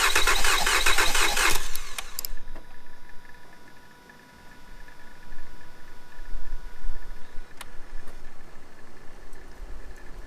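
A Mazda 6 3.0 engine cranking over during a tune-up, a loud burst of starter whir at the start that drops away to a low mechanical rumble with faint clicks.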